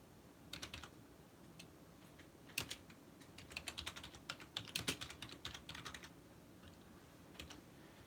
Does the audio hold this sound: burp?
no